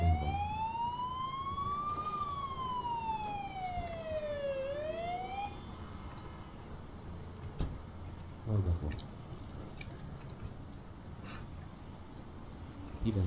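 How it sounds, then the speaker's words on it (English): Ambulance siren in the Emergency 4 video game, a loud wailing tone sweeping up and down for several seconds before cutting off, followed by scattered thumps and vehicle noise. "This is a ambulance."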